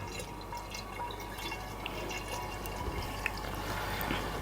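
Homebrew liquid trickles and drips from a tipped vessel, with faint, irregular splashes and droplets over a soft steady wash of running liquid, quiet and close.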